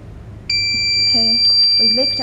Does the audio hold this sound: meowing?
no